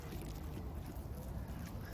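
Ducks and geese being fed by hand outdoors in London, with low honking and quacking mixed into steady rough outdoor noise, fairly faint and continuous.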